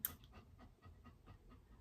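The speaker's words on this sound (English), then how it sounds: "So if you can hear Albie panting, he's just so hot" A hot dog pants in quick, rhythmic breaths, soft and close, about seven huffs in under two seconds, with nothing else heard.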